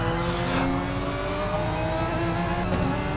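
Race cars, a McLaren and an Audi, run flat out down the straight at Fuji Speedway in a racing video game, with a loud, steady high-pitched engine whine that holds throughout.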